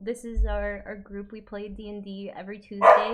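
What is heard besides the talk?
dog barking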